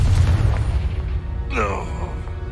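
A Confringo fire spell blast in the Hogwarts Legacy video game, a deep booming burst with low rumble at the start, followed by a bright magical whoosh partway through, loud and close.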